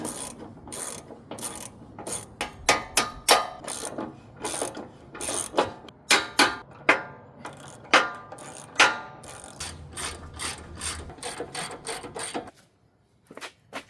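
A ratchet wrench works loose the bumper clamps and shackles on a Hummer H3, sounding as rapid close clicking bursts in irregular runs with short pauses, then falling quiet near the end.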